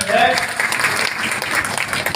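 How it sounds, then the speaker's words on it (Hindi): A crowd applauds steadily at a political office opening for a chairman candidate, a dense wash of clapping that runs the full two seconds with a voice faintly mixed in. "ऐसे नेतागण के लिए एक बार जोरदार तालियां हो जाए"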